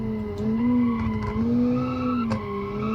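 A car in a driving game built around designing and testing cars runs at high speed with a steady, droning engine note that rises and falls slightly, plus brief tire scrubs and clicks, loud and continuous.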